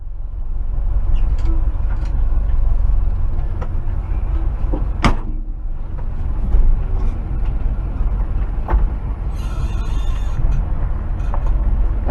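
A Chevrolet C10 truck running and driving, its engine a steady low rumble from inside the cab, with occasional knocks, clicks and a brief sharp thump.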